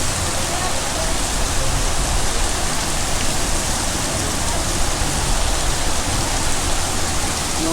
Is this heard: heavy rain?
yes